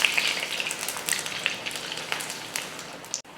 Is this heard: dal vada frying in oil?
yes